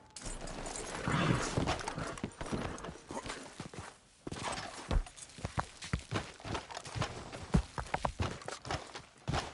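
Horse hooves clip-clop at a riding pace in the Red Dead Redemption 2 video game, steady close hoofbeats running through the whole stretch with a short break midway.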